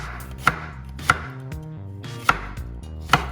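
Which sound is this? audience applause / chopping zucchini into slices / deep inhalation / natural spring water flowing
chopping zucchini into slices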